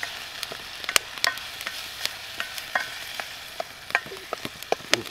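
A stir fry sizzles in a pan over a Bush Box XL camp stove, a constant hiss broken by sharp scraping and clacking stirs, close and fairly loud with no talking.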